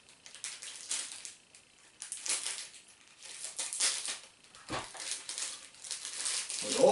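Plastic bags and cracker packaging crinkle and crumple up close in bursts of rustling and crackling, packed away for a muzzleloader hunt, with short pauses between handlings.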